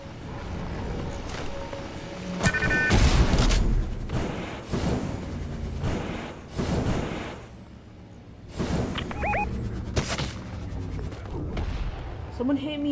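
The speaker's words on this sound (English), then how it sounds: "There's one person shooting at me." Video game gunfire cracks and booms in several loud bursts with heavy thumps between quieter stretches, mixed with in-game sounds and voices.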